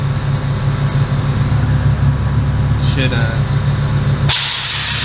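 Airlift 3P air suspension on a G35 airs up to drive height, a loud continuous hiss of air with compressor hum, a brief squeak partway, then a sharp change in the hissing near the end.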